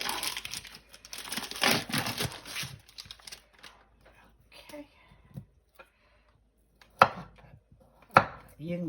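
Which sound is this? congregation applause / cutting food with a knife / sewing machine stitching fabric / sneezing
cutting food with a knife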